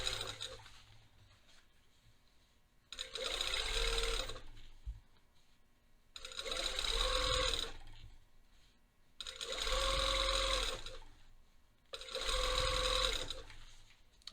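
A sewing machine stitches bias tape onto a waistband facing in four evenly spaced bursts of a few seconds each, its close buzzing rattle separated by quiet pauses.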